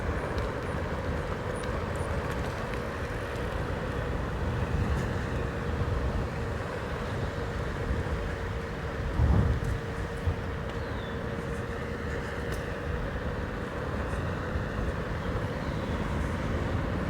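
Megawheels A6L ECO electric scooter cruising at a steady 15 mph through a turn: a constant rush of wind and road noise with a faint motor hum, even and unbroken, with one brief bump near the middle.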